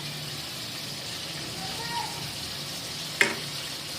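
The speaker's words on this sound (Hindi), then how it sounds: "ये देखिए ये भून गया है चिकन हमारा" Chicken frying in a karahi, a soft steady sizzle with a single sharp clink near the end.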